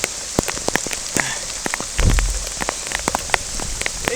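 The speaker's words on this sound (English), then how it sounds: "You can see through all the rain." Rain pattering steadily on a boat during inshore fishing near Charleston, South Carolina, with scattered close drop hits and a heavier burst of splashing midway, no talk.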